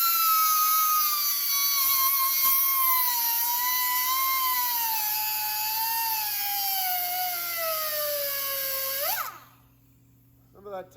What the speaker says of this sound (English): I am about to take a die grinder and cut right there, cut a slot right in there, cutting the pin, freeing the bolt.